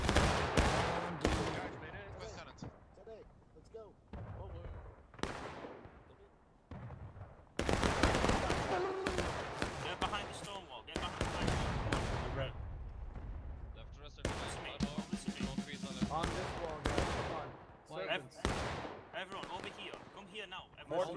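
Musket volleys ring out in the Civil War battle game War of Rights, sharp bursts of massed rifle fire recurring across the scene amid loud battlefield din, with players talking over the shots.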